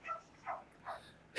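A dog in a Kefalonian garden gives three spaced barks or yips at a distance, faint and clear, before a sudden louder burst of noise ends the moment.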